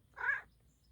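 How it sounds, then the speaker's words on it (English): A gray cat lets out a single short meow, soft and close, alone against a quiet outdoor background. "And here's a gray cat."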